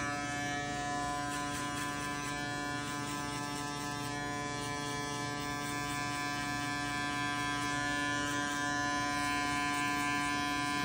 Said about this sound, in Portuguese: Nossa máquina zero alta, ó, para deixar bem ajustadinho.